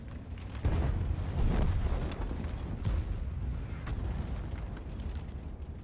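A loud, heavy boom from a tank gun firing in the video game World of Tanks, followed by a sustained rumbling roar of battle noise that stays dense and low for several seconds, with no talk.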